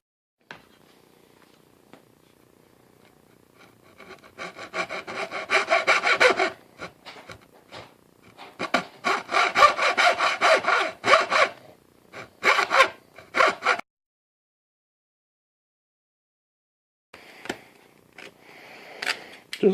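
A saw trims a part for a metal lathe stock rack with bursts of rough back-and-forth strokes separated by pauses and a short silence, moderately close with no talk.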